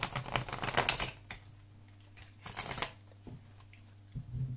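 Tarot cards riffle and shuffle for a pick-a-card reading in close, rapid bursts separated by quiet pauses, with a brief spoken remark.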